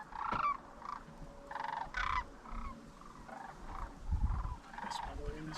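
Sandhill cranes calling during a windy morning hunt, a series of rattling, bugling calls at moderate distance with uneven rhythm, mixed with low rumbling and occasional voices.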